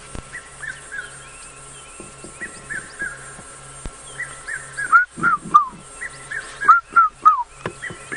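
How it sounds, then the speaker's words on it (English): A red-chested cuckoo calls in the background of a humid summer evening in the bush, its clear repeated whistled phrases coming in bursts over a low steady hum and faint ambient noise, with no talk. "You can hear that beautiful red-chested cuckoo calling in the background."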